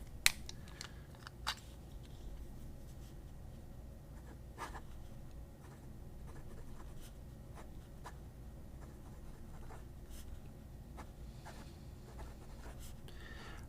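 A Majohn P141 fountain pen with a fine nib scratches across paper, a faint, quiet sequence of short strokes and ticks over low room hiss, with no talking.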